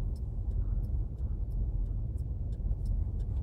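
A car rolls slowly along a road, with a steady low engine and tyre rumble held at an even level and faint light ticking above it throughout.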